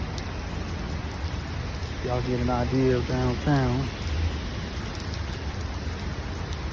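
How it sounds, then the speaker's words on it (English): Rain falls downtown in a continuous hiss, with someone talking briefly over it. "see it's raining downtown and all"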